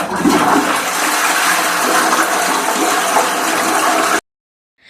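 A toilet flushes in one loud rushing surge of water lasting about four seconds, then cuts off abruptly to silence.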